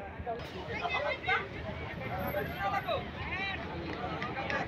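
A crowd of people chatters all around at Pangasia launch ghat, a river boat terminal, with a continuous babble of many overlapping voices and a faint high tone above it.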